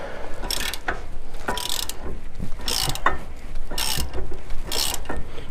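A hand ratchet clicks in repeated bursts of quick pawl strokes while loosening a brake bracket bolt on a Ram 1500, close up with no talk.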